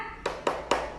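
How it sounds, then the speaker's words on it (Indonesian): A children's spirit clap during a second-grade home-learning class: three quick, evenly spaced hand claps, close and clear over a faint background hum. "Tepuk semangat."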